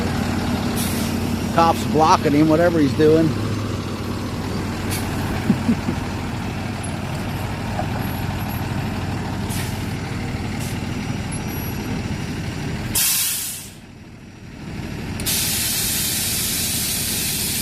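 A tow truck idles nearby at a roadside police stop, giving a loud air-brake hiss and a burst of spray-like release near the end, with someone talking over the engine hum early on.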